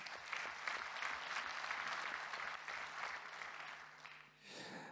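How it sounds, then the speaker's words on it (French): An audience at an entrepreneurs' convention gives speaker Alain Di Crescenzo a sustained round of dense clapping for about four seconds before it fades out quickly. "On peut l'applaudir très fort"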